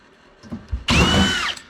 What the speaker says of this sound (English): So this whole drill is dedicated to a #1 Phillips.